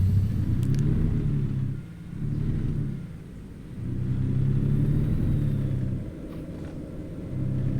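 A truck engine in American Truck Simulator starts and drives, a low steady rumble that swells and eases as the throttle rises and falls, with no talking.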